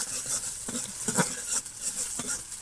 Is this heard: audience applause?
no